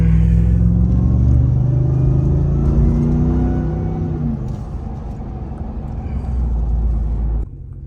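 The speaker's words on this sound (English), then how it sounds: "Give y'all a quick pull off the red light. See, I can hear this whine." Supercharged Ram TRX truck pulling away from a red light at night, a loud deep engine rumble with rising harmonic whine building over the first few seconds, then steady roar that cuts off near the end.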